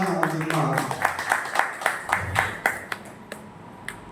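Audience clapping at a poetry recitation event honoring a poet, a run of fairly sparse, rhythmic claps that thin out over a few seconds, with a voice speaking at the start.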